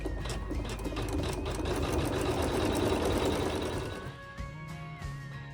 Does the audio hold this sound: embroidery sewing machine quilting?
yes